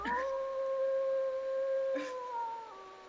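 A wolf in a video game gives a long, steady, tonal howl, then a second howl that rises and falls slightly, fairly clear against a quiet background.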